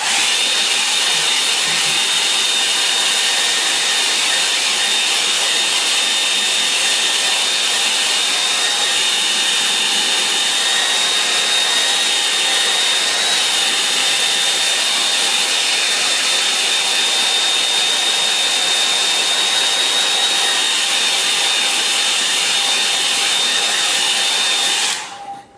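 A hair dryer blows on a watercolour painting of rocks and a distant shore, a loud, continuous airy roar with a steady high whine that runs unbroken for the whole stretch, close by and alone, cutting off at the very end.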